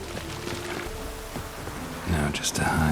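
Steady rain patters and hisses in The Witcher 3 video game, a soft continuous wash that thickens near the end as other game sounds rise over it.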